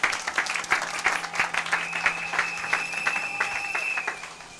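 A church congregation bursts into steady applause, dense clapping from many hands filling the room, with a sustained tone running underneath throughout.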